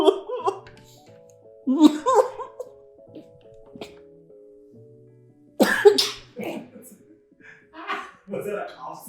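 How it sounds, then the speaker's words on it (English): A sharp cough bursts out amid speech, followed by more coughing and a throaty gasp, close and fairly loud. "Was that a cough sneeze?"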